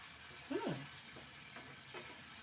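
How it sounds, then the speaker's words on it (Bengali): Spiced pointed gourd (potol) stuffing with turmeric fries dry in a pan, giving a low, steady sizzle with a few soft stirring scrapes. "একদম শুকনো শুকনো করে ভাজা হবে।"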